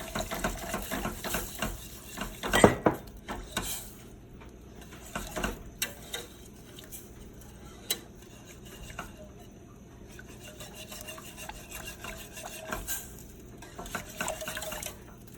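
A whisk stirs two cups of milk into a thickening sauce in a pan, making close, irregular scraping and light clinking strokes against the pan, with no talking.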